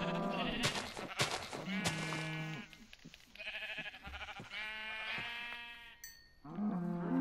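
Minecraft sheep bleat repeatedly in short, wavering cries, several in a row with brief gaps, close and clear, with a few thuds of hits in between.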